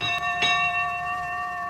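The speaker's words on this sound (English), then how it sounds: "the sound of Toby's bell echoed up the line." A tram engine's bell rings out along a railway line: a single struck, sustained metallic tone that echoes and lingers steadily before slowly fading.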